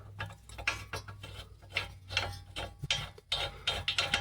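Ratchet tightening a 15mm bolt on the brake assembly of a 2013 Ford Fiesta, close-up rapid clicking bursts in several short runs with brief pauses between strokes.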